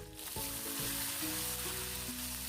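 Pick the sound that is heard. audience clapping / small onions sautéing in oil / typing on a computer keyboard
small onions sautéing in oil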